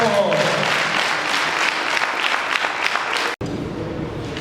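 Audience applause at a national professional association president's speech, a steady dense wash of clapping close and loud for over three seconds, with a brief cut before it resumes; some voices mixed in.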